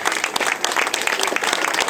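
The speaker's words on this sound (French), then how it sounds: "Applaudissements maintenant." A crowd at a women's cross-country mountain bike race award ceremony applauds with dense, steady clapping that fills the whole short stretch, moderately loud.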